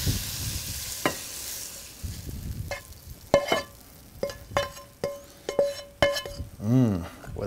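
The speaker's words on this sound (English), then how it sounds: "now I'm going to go ahead and add my meat." Cooked meat is scooped and spread over a seven layer dip with a spoon, making soft scrapes and several sharp clinks against the dish, close up over a faint sizzling background.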